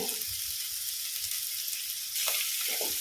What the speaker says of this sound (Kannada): ಈ ಎಣ್ಣೆಗೆ ಸಣ್ಣ ಸಣ್ಣದಾಗಿ ಕಟ್ ಮಾಡಿದ ಶುಂಠಿ ಮತ್ತು ಬೆಳ್ಳುಳ್ಳಿ ಮತ್ತು ಒಂದು ದೊಡ್ಡ ಈರುಳ್ಳಿ ಸ್ವಲ್ಪ ಬಾಡಿಸುವ